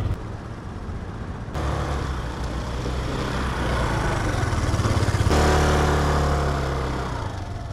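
A motorcycle carrying a rider home after loading bundles of goods, steady engine drone close by that rises in two steps as it speeds up, running continuously with no talk.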